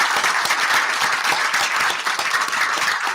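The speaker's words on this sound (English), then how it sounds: "Let's give them a big round of applause." A seated audience at a Caring for the Kenai community presentation bursts into sustained, dense applause, many hands clapping loudly and evenly, close and filling the room for the whole stretch.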